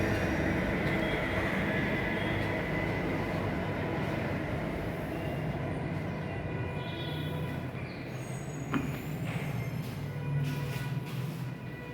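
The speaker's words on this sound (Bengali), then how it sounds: "এবার এখান থেকে মেট্রো যাচ্ছে" A metro train passes close to a new flat in Dum Dum, making a steady, loud rumble of wheels and carriages with a brief squeal late on.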